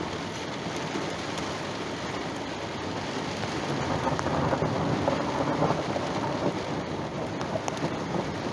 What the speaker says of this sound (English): We're taking shelter from the core of the storm passing over.